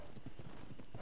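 Quick hoofbeats from a unicorn horse in the ARK: Survival Evolved game clop in a rapid, even pattern, near and moderately loud, with no voices in the brief burst.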